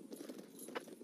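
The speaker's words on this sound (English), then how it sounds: "There's a horse." Horse hooves clip-clop in a quiet, steady patter within a Nintendo fantasy video game trailer, faint and somewhat distant with no voices.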